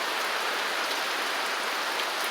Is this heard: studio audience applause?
no